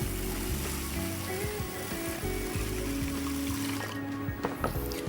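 Water is poured over uncooked white rice in a bowl as sushi rice is prepared. A continuous, close pouring and trickling runs throughout, with light clicks and small splashes of the grains.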